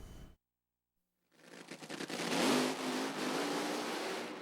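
Swamp Rat 30 top-fuel dragster engine in educational software roars in loudly after a short silence, building into a harsh, crackling, sustained blast that holds near full volume.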